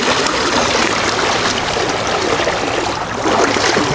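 A river running high in November rushes past with a strong current, a dense, continuous roar of water up close and no voices.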